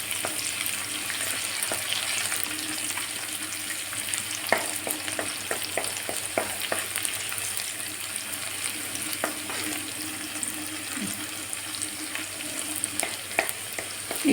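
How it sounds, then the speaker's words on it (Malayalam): Chopped shallots sizzle steadily in oil in a pan while being cooked for a prawn curry with Malabar tamarind and coconut milk, with occasional stirring clicks and scrapes over a constant close frying hiss; no voices. "ചുമന്നുള്ളി ഒരുവിധം മൂത്ത് വന്നപ്പോൾ ഞാൻ അതിലേക്ക് ഇഞ്ചിയും"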